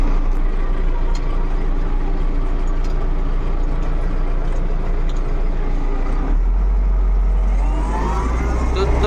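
An MTZ tractor pulls a plough set about 22 cm deep through garden soil, its diesel engine droning steadily and close with a deep low rumble that deepens and strengthens near the end.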